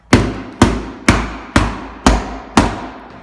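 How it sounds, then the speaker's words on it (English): Six sharp hammer blows strike a wooden board at a downward angle to pop it off a window frame, evenly spaced about half a second apart, loud and close, each with a short decaying ring. "take your hammer and just smack it at a downward angle here to make this whole board pop off"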